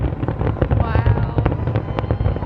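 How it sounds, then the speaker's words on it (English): Fireworks exploding over Indian Lake on July 3, 2021: a dense, loud barrage of rapid overlapping pops and booms, one burst after another, with a crowd's voices mixed in underneath. "I've never seen that many fireworks in my life."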